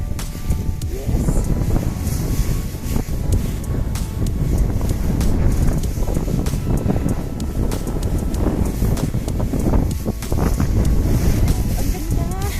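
Wind gusts hard against the microphone on Mt. Largabista in Labrador, Pangasinan, a loud buffeting roar that swells and surges without letting up across the whole stretch.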